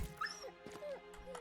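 A dog in the video game Battle Brothers lets out short whimpering yips, a few high whines and yelps over quiet game sounds, close and brief.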